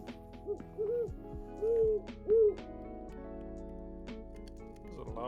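An owl in the Minecraft ATM10 modpack gives several loud hoots in an uneven sequence over a bed of steady game music tones.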